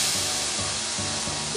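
A cup of onions sizzles in olive oil and butter in a pan, a loud, steady hiss with a faint rhythmic pulse underneath, close and continuous, with no talking.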